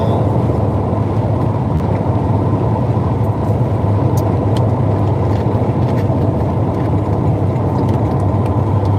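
Steady, loud road and engine drone from a Porsche 944 cruising on the highway, a continuous low rumble with tire noise running unbroken throughout, no talking.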